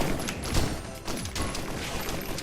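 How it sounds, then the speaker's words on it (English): Fireworks item in the Risk of Rain video game firing off many rockets at once, a dense, continuous crackling barrage of rapid pops and bursts that stays loud for the whole stretch. "the fireworks are going to be pretty good now because we actually have 3 of them, so each little thing we open is going to be firing quite a bit of them"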